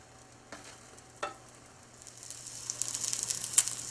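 Eggs frying in a pan for a hearty breakfast, a quiet sizzle that swells into brighter crackling spatter, with a couple of soft utensil taps early on.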